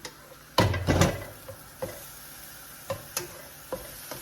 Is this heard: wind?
no